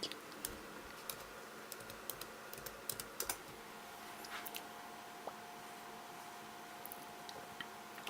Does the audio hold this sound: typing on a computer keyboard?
yes